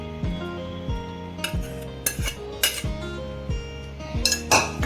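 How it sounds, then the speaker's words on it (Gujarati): A metal spoon scrapes and clinks steadily against a pot while a cornflour halwa mixture for Karachi halwa is stirred over the stove, making rhythmic close scraping strokes with sharper clinks throughout. "અને આને હવે હલાવતા રહેવાનું"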